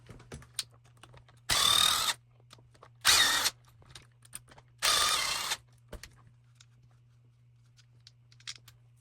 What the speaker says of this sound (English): And then again, more 3mm bolts. Zip these out and the whole thing will come out.